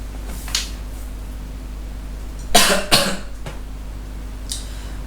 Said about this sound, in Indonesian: Hari ini aing batuk